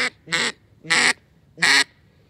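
A duck call blown by hand to imitate a duck, three loud, evenly spaced nasal quacks, close and alone with short silences between.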